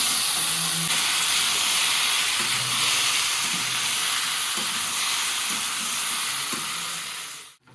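A loud, steady sizzle of potatoes frying in spiced masala, with soft stirring knocks now and then, close by and unbroken.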